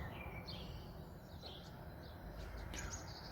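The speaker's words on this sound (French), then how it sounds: "On entend vraiment bien les oiseaux." Birds sing and chirp outside, several faint scattered calls and tweets over a soft, steady background hiss.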